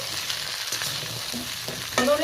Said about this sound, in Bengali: কেটে রাখা ঝিঙ্গেটা দিয়ে দেব আর বরবটিটাও দিয়ে দিলাম সব সবজিগুলোকে আমি ভালো করে নেড়ে ফেড়ে